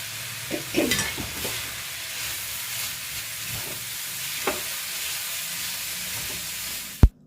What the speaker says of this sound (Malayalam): തേങ്ങയും കൂടെ ചേർത്ത് കൊടുത്തിട്ട് നന്നായിട്ട് ഇളക്കി യോജിപ്പിക്കണം